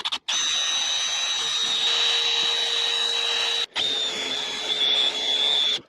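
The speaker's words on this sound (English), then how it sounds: "Watch what this drill bit can do to this grade 8 bolt." A drill bit grinds into a hardened grade 8 bolt with a loud, sustained high-pitched whine, broken by two brief pauses where the drill stops and restarts.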